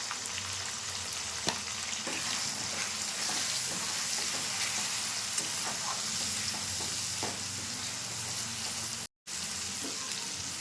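Chopped tomato and turmeric hit onions already frying in a pan for a spicy potato and green pea dum, giving a steady close sizzle with small clatters and a brief cut near the end.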